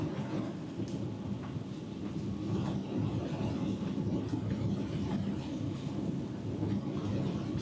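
A winter storm of rain mixed with snow and graupel patters steadily, with a broad wash of precipitation noise, a deep low rumble of wind and a few sharper ticks of pellets striking.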